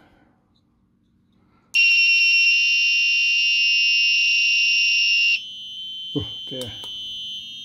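A game kit's small speaker gives out a loud, steady electronic beep for several seconds, then a quieter tone keeps going, and a voice speaks briefly near the end.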